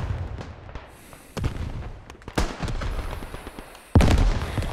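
Grenade blast and combat gunfire in the video game Beyond The Wire, several sharp explosive bangs at intervals with a heavy, loud boom near the end, no talk over it.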